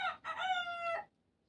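A rooster crows nearby, one long clear cock-a-doodle-doo that rises and holds before cutting off into quiet.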